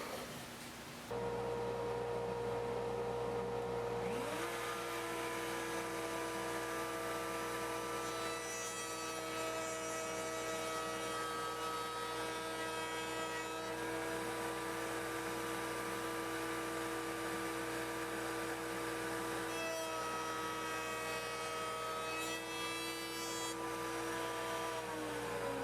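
A router spins up to a steady high whine and makes a full-depth cut through wood in one pass, a loud continuous tonal drone with shifting rasping texture as the bit bites the workpiece.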